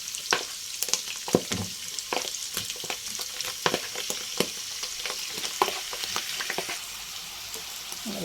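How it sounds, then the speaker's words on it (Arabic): Chicken pieces frying with onions in a pan for chicken fajitas, a constant close sizzle broken by frequent clicks and scrapes as the pieces are turned and stirred, with no voices. "هلا بدي انزل بقطع الدجاج"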